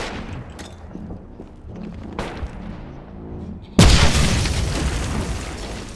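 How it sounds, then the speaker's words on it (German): A grenade explodes in the video game Wolfenstein (2009), a sudden loud blast that breaks through quieter game noise and rumbles on for a couple of seconds. "Granate, da kommt's geflogen."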